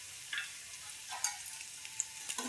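Rice-flour kothimbir vadi (coriander fritters) frying in oil, a faint steady sizzle with a few soft pops and light crackles close by, no voices.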